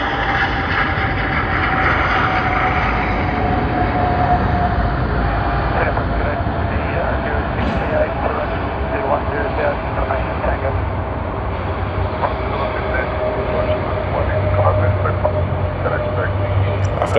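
A Qantas jet at Sydney Airport gives off a sustained, moderately loud engine rumble and whine with a steady tonal hum, while people talk intermittently nearby.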